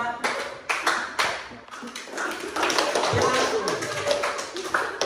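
Classroom students clapping in a counted pattern, sharp bursts of many hands clapping together in groups of one, two, three and five, with a teacher's voice calling the counts between them.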